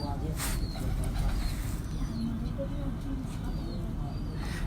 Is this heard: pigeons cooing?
yes